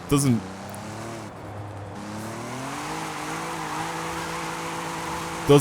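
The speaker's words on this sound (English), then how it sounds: "I think the engine sound for the VR6 just doesn't sound great in this." A Volkswagen VR6 car engine in Forza Horizon 5 hums with rising and falling pitch, steady and moderately loud, with brief tire noise or knocks at the start and end.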